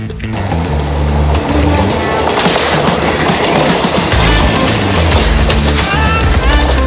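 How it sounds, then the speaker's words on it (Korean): A train rumbles past nearby in Sri Lanka, loud and continuous, with rhythmic clattering of wheels over the rails. "어 기차 온다"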